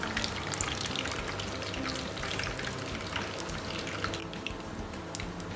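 A fish fillet fries in hot oil, a close, steady sizzle scattered with sharp crackles and pops, with no talking.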